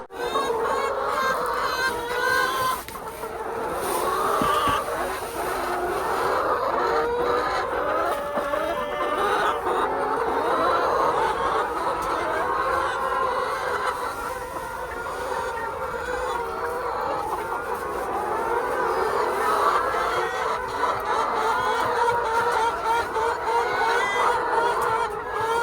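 Chickens and other poultry on a small indoor poultry farm make a dense, steady chorus of clucking and calls that runs without a break and fills the whole stretch.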